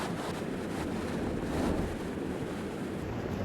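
Steady wind gusts over open water, a broad continuous rush with the faint wash of waves beneath.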